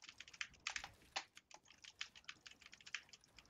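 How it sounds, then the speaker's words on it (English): Fast, hard typing on a computer keyboard during an online game, with rapid clustered keystrokes clattering close up and no talking. "Fire Gaming, stop breaking your keyboard!"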